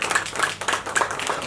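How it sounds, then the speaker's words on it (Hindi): At an event, audience members clap in a brief burst of quick, evenly spaced hand claps, close and moderately loud. "एक बार जोरदार तालियां हो जाए."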